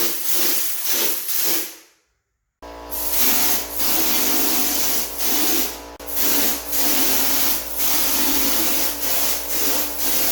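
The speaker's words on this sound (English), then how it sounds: "we're going to spray a little test piece right there first" A drywall texture sprayer hisses in bursts while spraying a test patch, with repeated spray pulses, a short silent gap early on and steady mechanical hum underneath.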